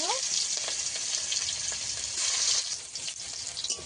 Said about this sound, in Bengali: পেঁয়াজটা ভালো করে ভেজে নিয়েছি